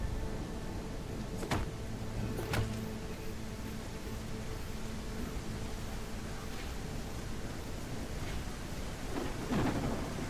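Steady rain hisses through a video game thunderstorm set in a medieval open world, with two sharp thunder cracks early on and another near the end, fairly quiet throughout.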